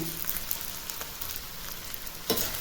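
Sliced onions and moong dal fry in a pan, giving a steady, close sizzle with soft crackles and one brief stirring clatter near the end.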